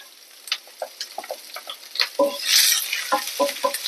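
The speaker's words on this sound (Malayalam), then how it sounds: "കുറച്ച് കറിവേപ്പില നമുക്ക് അരിഞ്ഞ് വെച്ചിരിക്കുന്ന സവാള വലിയ ഉള്ളി ഇതിലേക്ക് ചേർത്ത് കൊടുക്കാം" Chopped onion and curry leaves frying in a pan for a Kerala thoran, with a steady hiss broken by scattered crackles and light stirring taps, close and moderately loud, no talking.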